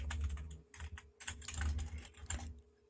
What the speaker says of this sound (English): I was typing something.